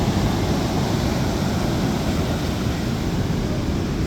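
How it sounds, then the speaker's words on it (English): Big ocean waves breaking on a packed public beach during a summer beach festival, heard as a continuous loud roar of surf and wind with no clear gaps between breakers. "Monster waves right there, by golly."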